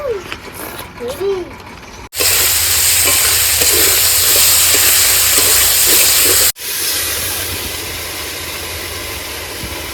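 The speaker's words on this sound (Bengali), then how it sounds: "মহিমা মাংস কষাতে বসিয়ে দিয়েছে" Loud, steady hiss of meat being stir-cooked (kosha) in a pan at a family picnic, broken by brief cuts, with voices and clatter heard at the start.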